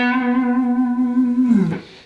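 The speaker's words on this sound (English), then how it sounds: "distortion sound because the preamp is overloaded really, so you're getting a bit of distortion" An electric guitar note rings through an overdriven Fender Blues Junior preamp, giving a fizzy, distorted sustained tone that holds steadily, then bends and fades at the end.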